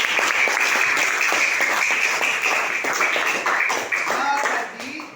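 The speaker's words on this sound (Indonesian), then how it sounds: "berikan tepuk tangan untuk Lira" A group claps for a student during an Indonesian coaching session, a crisp burst of many hands that holds steady and then thins out and fades near the end as a voice begins.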